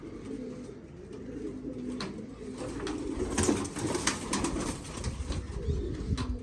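Pigeons cooing on a rooftop loft, a steady low throaty cooing that carries through the whole stretch, with fluttering and background bustle mixed in at moderate loudness.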